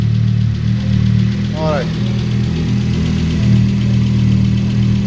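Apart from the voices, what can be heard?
rebuilt Audi RS3 DAZA engine running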